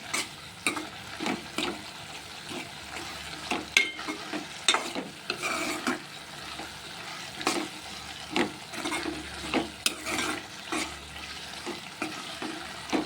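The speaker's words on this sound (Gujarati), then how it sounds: "જેમ જેમ આપણી ભાજી સળશે એમ તેમ એમાંથી તેલ છૂટું પડવા લાગશે" Tanjariya greens sizzle and fry in oil in a pan while a spoon stirs them, giving repeated close scraping strokes over a steady soft sizzle, with no talking.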